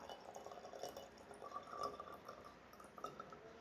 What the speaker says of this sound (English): Let's pour some more water